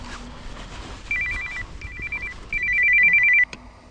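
A mobile phone rings outdoors on a fishing trip, its electronic ringtone repeating in short bursts that grow louder before cutting off abruptly, with no talking over it.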